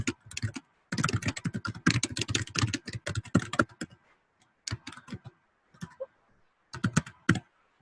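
Quick bursts of typing on a computer keyboard, close and crisp, come in rapid clattering runs separated by short pauses, with no voices.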